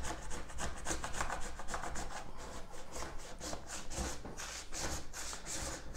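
A plastic scraper rasps wax off a snowboard base in steady, repeated back-and-forth strokes, close and moderately loud with no talking.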